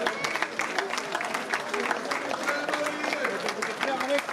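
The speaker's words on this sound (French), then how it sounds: "Allez, on les applaudit les mariés." Wedding guests applaud a newly married couple during cake cutting at a traditional Maraîchine wedding, a soft, continuous spatter of many hands clapping beneath a voice speaking over the crowd.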